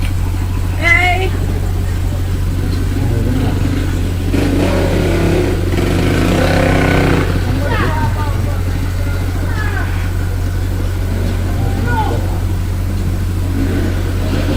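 A motorcycle rides off during a police chase, its engine revving and surging at mid distance beneath several voices chatting and commenting over a constant low hum.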